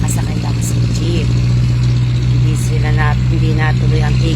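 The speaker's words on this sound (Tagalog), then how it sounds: "Nakasakay ako sa jeep." A jeepney's engine idles with a steady, loud low drone from inside the moving vehicle, and voices talk faintly over it now and then.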